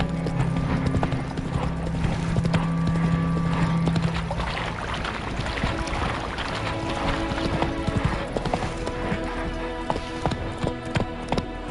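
Galloping horse in The Witcher 3, loud rapid hoof clip-clops pounding steadily throughout, with an occasional whinny and jingling tack, and no talk.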